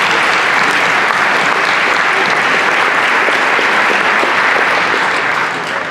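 A district address audience gives a loud, dense round of applause that fills the room steadily for several seconds with no pause and no voices over it.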